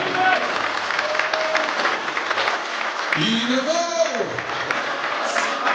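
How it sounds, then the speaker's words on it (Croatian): A crowd claps steadily in sustained applause, and a voice calls out over the clapping partway through. "Još aplauza."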